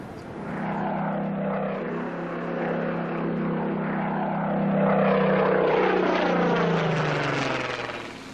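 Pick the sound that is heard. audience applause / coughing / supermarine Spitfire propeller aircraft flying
supermarine Spitfire propeller aircraft flying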